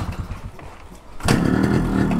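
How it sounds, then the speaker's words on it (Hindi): A Yamaha RX100 motorcycle left unused for ten days kick-starts with choke and no throttle: a muffled kick and mechanical clatter, then the two-stroke engine catches and settles into a loud, steady buzzing idle close by. "सेकंड किक में चालू हो गया।"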